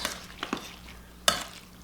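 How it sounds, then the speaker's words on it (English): Spoon stirs mango salsa with lime juice in a bowl, a few soft wet clinks and scrapes, sparse and close, with a louder pair of knocks near the end. "So now we're just going to stir it"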